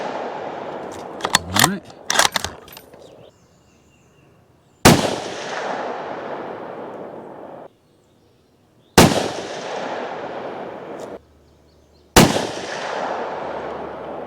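Three loud, sharp rifle reports from a Taurus Expedition .308 bolt-action fired outdoors, each a sudden crack trailing into a long decaying echo, with pauses between shots and brief talk near the start.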